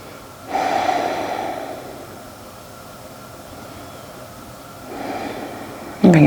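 Deep breaths during a yoga session: a long, close inhale and exhale, a quiet pause, then another breath, ending in a sharp audible exhale, with no talk.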